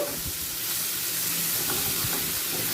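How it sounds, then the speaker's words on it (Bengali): Prawns frying over a medium flame with onion, green chilli and tomato in a pan for a Bengali prawn curry, giving a steady close sizzle and hiss with a few scraping stirs and no talk. "চিংড়ি মাছটাও পেঁয়াজ কাঁচা লঙ্কা টমেটোর সাথে মিডিয়াম ফ্লেমে ভেজে নেব"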